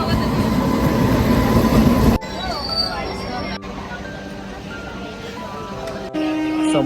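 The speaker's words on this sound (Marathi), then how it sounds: "ही दुसरी ट्रेन आली" A train rumbles and clatters past a railway crossing in rain, with the heavy noise dropping suddenly to quieter rolling wheels, squeals and a distant horn, while people talk nearby.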